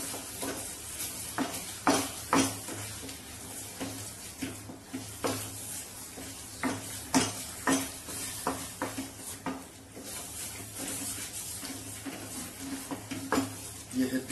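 Mustard greens saag with spices is mashed and stirred in a pan in a village-style kitchen: irregular scraping and knocking strokes, some sharp, repeat over a faint sizzle, moderately close and fairly quiet.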